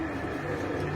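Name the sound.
pigeons cooing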